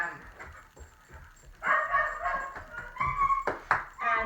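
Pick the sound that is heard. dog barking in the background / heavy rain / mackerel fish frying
dog barking in the background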